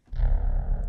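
A short, deep Synth1 synthesizer tone with a buzzy, distorted low end starts abruptly and holds steady for under a second, loud and alone.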